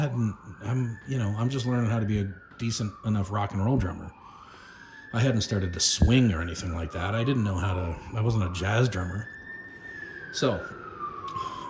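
Emergency vehicle sirens wail in the background, rising and falling in three slow sweeps under someone talking throughout.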